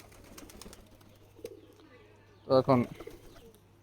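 Pigeons being fed on a rooftop give a short, loud burst of calls and wing flutter near the end, after quieter murmuring and a person speaking briefly.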